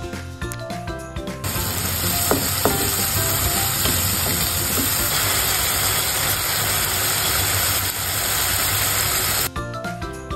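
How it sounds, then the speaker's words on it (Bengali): Spice paste of green chilies, garlic paste, ginger paste and cardamom powder frying in oil for a spicy goat brain masala gives a steady, close sizzle that runs unbroken for most of the stretch, with a thin whine in the background and no talk. "মশলা কষানোর সময় মশলার তেল যখন উপরে উঠে আসবে বুঝে নিতে হবে মশলা কষানো হয়ে গেছে।"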